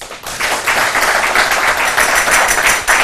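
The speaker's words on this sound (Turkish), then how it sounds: "Sağ olun var olun o güzel alkışlarınız için çok teşekkür ediyorum" A studio audience applauds steadily at a Turkish television show, loud sustained clapping from many hands that swells after a brief start and continues throughout.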